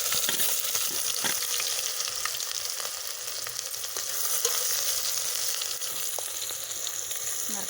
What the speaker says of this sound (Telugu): నూనె వేయగానే ఇప్పుడు మనం ఆనియన్స్ వేసుకోవాలి.